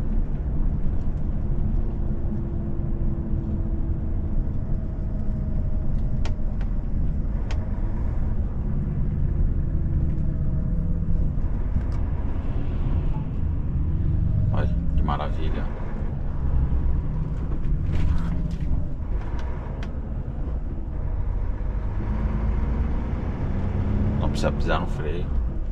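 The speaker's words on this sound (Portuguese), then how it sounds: "Não precisa pisar no pedal do freio de serviço, só no freio motor." A truck slows for a speed bump on engine braking alone, a steady low rumbling drone that runs the whole time, with someone talking over it.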